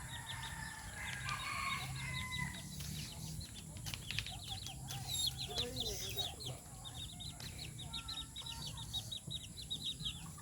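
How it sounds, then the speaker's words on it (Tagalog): Chickens cluck repeatedly with a rooster crowing partway through, a busy farmyard chorus at moderate distance with steady background noise. "Yun yung mga manok ko guys."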